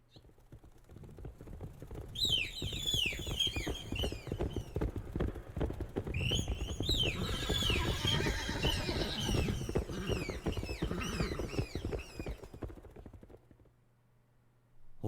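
A horse gallops with rapid clattering hoofbeats for several seconds, shrill high squeals and whinnies over them, then fades to a low hum.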